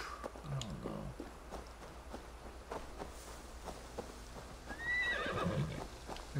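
Horse in the video game Assassin's Creed Valhalla whinnying amid clip-clopping hooves and soft game ambience, the neigh rising clearly near the end over quieter steps and rustling.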